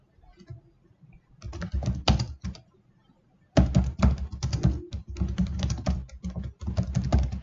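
Rapid bursts of keystrokes on a computer keyboard as a connector name is entered, close and fairly loud, with a pause and then a denser second run of clicking taps.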